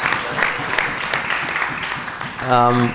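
Audience applause at a town hall meeting, a steady bed of clapping for a few seconds before a voice starts speaking at the end.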